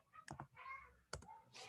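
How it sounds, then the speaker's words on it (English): Faint clicks from a computer keyboard being typed on during a live online Q&A session, a few separate sharp keystrokes with soft indoor background between them. "I'm just typing it."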